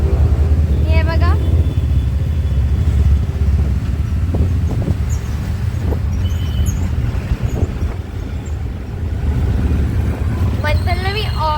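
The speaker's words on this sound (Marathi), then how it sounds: "मंथनला मी ऑटोने सोडायला चालली आहे" An auto rickshaw rides through traffic with a loud, constant engine rumble and road noise, wind buffeting the microphone; a couple of short horn toots rise at the start and end, and a voice speaks briefly.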